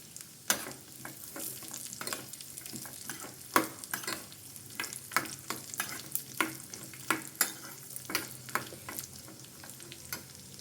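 Cashews and raisins frying in hot ghee in a pan for chakkera pongali, giving a steady crackling sizzle with repeated sharp stirring scrapes throughout, close and moderately loud with no voices.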